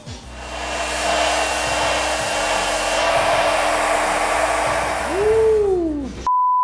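A hair dryer blows hot air onto a client's scalp before a barbershop haircut, making a steady, loud, close whoosh with a constant motor whine that cuts off near the end, followed by a short electronic beep.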